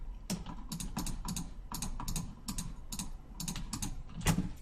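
Keyboard keys and mouse clicks during low-poly 3D modeling of a concrete barrier: a quick, irregular run of sharp, close clicks at a moderate level.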